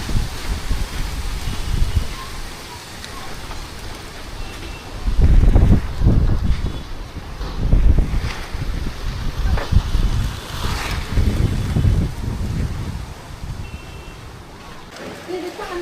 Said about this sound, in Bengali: পশ্চিম দিক থেকে বাতাসগুলো অনেক বেশি আসতেছে